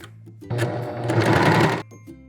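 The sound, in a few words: sewing machine stitching dress side seams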